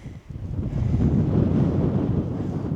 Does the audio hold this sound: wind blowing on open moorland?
yes